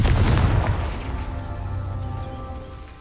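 A Confringo spell in Hogwarts Legacy goes off as a deep booming explosion that hits hard at the start and then fades into a low, rumbling tail.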